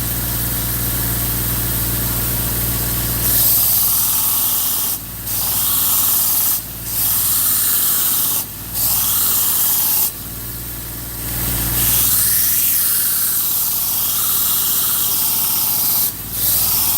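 A powered knife sharpener grinds a blade edge to raise a burr, a steady harsh abrasive hiss broken by several short pauses as the blade is lifted and reapplied, loud and close with no talk.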